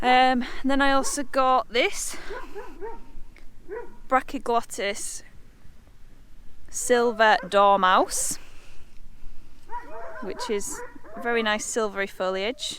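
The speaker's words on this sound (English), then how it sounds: "Apologies about the dogs barking." Dogs bark in repeated yapping bursts nearby, some whimpering and yipping, mixed with a person talking between and over the barks.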